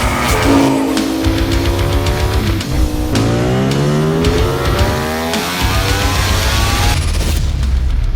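A Ducati Panigale V4 S superbike engine accelerating hard, loud and close, its rising pitch climbing through several gears with brief drops at each shift.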